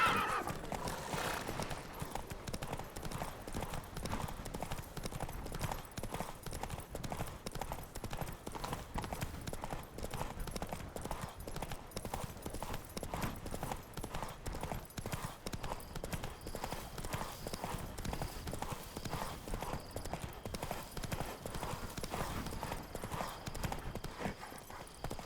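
Galloping horse hooves pound in a steady, continuous clip-clop rhythm during a horse race in the video game Witcher 3, with occasional whinnies, loud and close throughout.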